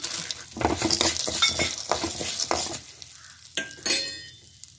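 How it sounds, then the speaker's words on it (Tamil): Peanuts tossed into a pan and stir-fried for Tamil birantai thuvaiyal, a crackling sizzle broken by scraping strokes and light clinks of a spatula against the pan, fading to quieter sizzle. "இந்த டைமில் நம்ம நிலக்கடலை சேர்த்துக்கலாம்"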